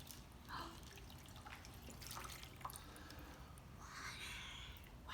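Water poured from a cup into a container of Orbeez gel beads, heard as a faint, soft trickle and splashing with brief sloshing bursts over a low background hum.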